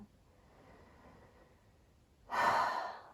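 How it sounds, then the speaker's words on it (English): A single deep breath taken in a yoga flexibility flow, a short, fairly loud airy exhale near the end after a quiet, near-silent stretch. "And one more deep breath here."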